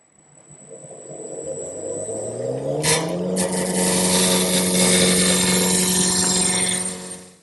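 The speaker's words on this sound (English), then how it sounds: "First thing I want to do is round over this blank with my gouge." Wood lathe spinning a table-leg blank while a gouge rounds it over, a steady motor hum that swells as the cut bites in, with a rising tone and sustained scraping chatter running close and continuous to the end.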